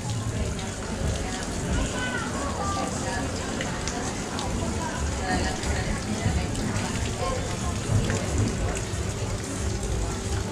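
Water flowing from a healing fountain in Rethymno, Crete, a steady soft splashing trickle running continuously at moderate distance, with people talking over it.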